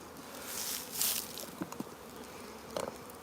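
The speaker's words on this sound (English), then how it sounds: "Way too many bees in this." Honeybees buzz in a soft, steady swarm as nuc frames are moved and bees are shaken into a box, with a few light knocks and taps.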